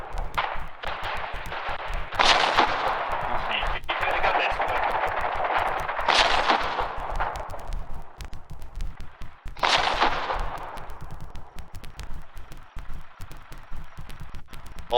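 Automatic SMG fire in the war game Foxhole during close-quarters room clearing, with loud sustained bursts that swell and fade again in a long, dense barrage and no talking.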